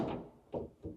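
A Volkswagen van's dashboard glovebox door shuts with a dull thunk, followed by two quieter knocks, close and faint with no talk.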